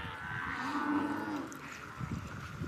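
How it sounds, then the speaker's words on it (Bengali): Cattle from a large herd crossing near the India–Bangladesh border moo loudly and close, one long drawn-out low call dominating before fading into scattered shuffling. "দেখছেন যে হাজার হাজার গরু একসাথে পার হয়ে আসতেছে"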